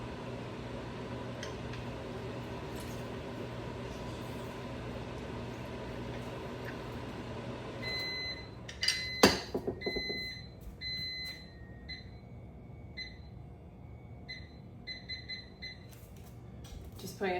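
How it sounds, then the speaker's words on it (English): A kitchen timer set for cooking rice beeps in short repeated tones over a steady background hum, with brief clatter near the middle. "Just putting a timer for my rice before I gotta fluff it."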